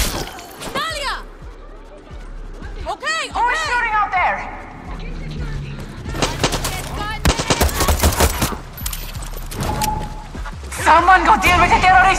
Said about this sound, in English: Who is shooting out there?